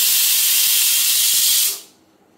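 A loud, steady hiss of escaping steam blasts from a pressure cooker boiling potatoes for a moment, then cuts off abruptly into near quiet.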